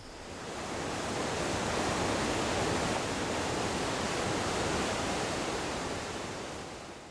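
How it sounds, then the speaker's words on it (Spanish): Steady broadband wind rushes across an open outdoor spot in the Andes, swelling in and holding a constant roar for several seconds before easing slightly at the end, with no voices. "en estos momentos, particularmente aquí también podemos escuchar el viento"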